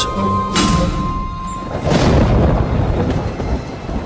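A cartoon thunder effect, standing in for a red deer's hooves pattering in the sky, rolls in loud and close with sharp cracks and a deep, rumbling, rain-like wash, with no talking.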